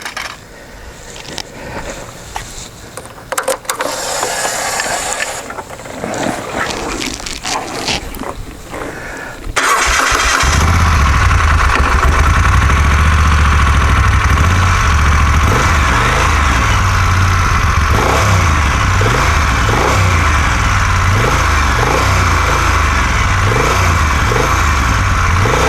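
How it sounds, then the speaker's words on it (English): A Moto Guzzi Eldorado 1400 motorcycle fires up after some quiet handling noise, then settles into a loud, steady idle with a low, pulsing throb and occasional revs, close by and alone. "I'll start the bike up and show you how that torque works"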